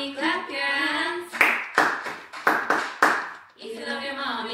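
Several sharp claps of children's hands in rhythm with a nursery song, heard in a short burst between sung lines.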